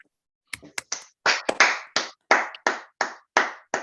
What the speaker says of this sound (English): give Jane a brief round of applause for that